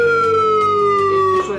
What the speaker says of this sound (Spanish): por ejemplo aquí vamos a probar el horn.